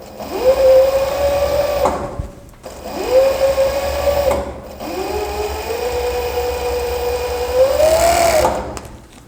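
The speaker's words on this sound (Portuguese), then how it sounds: "E agora eu vou fazer o acabamento da overlock." An overlock machine finishing the crotch seam of a pair of trousers runs in three loud, close bursts, each winding up to a steady whir and stopping with brief pauses between.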